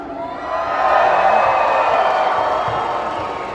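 A large arena crowd at a jousting tournament between Canadian and American knights claps and cheers, swelling quickly into loud, sustained applause with whoops before easing off slightly at the end.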